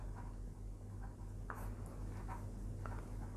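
A pen writes an algebra expression on paper with a soft continuous scratching and faint rubbing strokes, heard close up over a steady low hum and background hiss.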